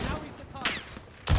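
Gunfire in a military shooter video game, a loud sharp burst near the end after quieter game ambience and scattered softer bangs, with someone talking over the action.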